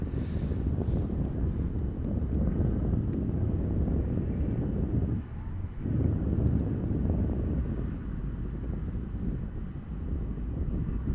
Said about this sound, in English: Wind picks up again.